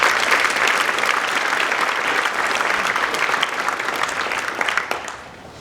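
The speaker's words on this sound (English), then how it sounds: "So we give them a round of applause." Audience at a school band winter concert applauds in a dense, steady wash of clapping that holds for about five seconds, then quickly tapers off.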